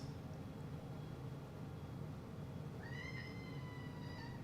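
A house cat meows to be let outside, several rising calls beginning near the middle and drawn out, heard over a steady low hum from a flight simulator running in the room.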